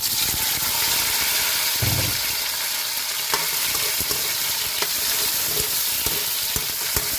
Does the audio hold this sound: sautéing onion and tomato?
yes